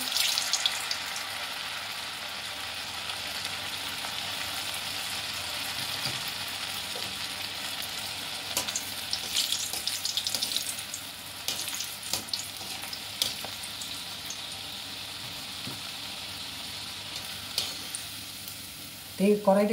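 Kurkure snacks made from leftover rice fry in hot oil in a kadai, giving a loud, dense, continuous sizzle with occasional stirring clatter and a brief voice near the end.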